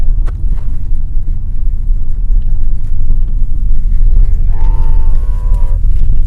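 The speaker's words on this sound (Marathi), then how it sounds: "गाईचा आवाज किती छान आला, हंबरण्याचा" A cow in rural Maharashtra lets out one low, drawn-out moo in the second half, moderately distant, over steady outdoor rumble and wind.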